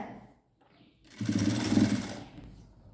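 A sewing machine runs in one short steady burst while stitching a blouse, a whirring run of about a second after a quiet start, then trailing off.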